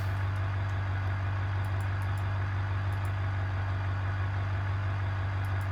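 Steady idle of a 5.5-liter V8 in a cargo van in the BeamNG driving game: a constant low engine drone holding even throughout, with no talk.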